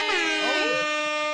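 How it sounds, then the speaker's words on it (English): A single loud air horn blast, a brassy multi-tone honk that bends in pitch and then holds steady before cutting off, heard alone with no talking. "the air horn"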